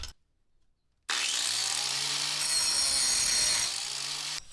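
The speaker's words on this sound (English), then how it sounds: "we've gone ahead and cut the head off of that inner bolt" A power saw cuts through an inner control arm bolt on an Audi B5 S4, a loud, steady grinding whine that starts abruptly after a second of near silence and runs continuously up close.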